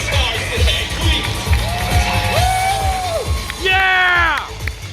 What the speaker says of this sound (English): Can I get a big round of applause for our Mortal Kombat superstars today, please?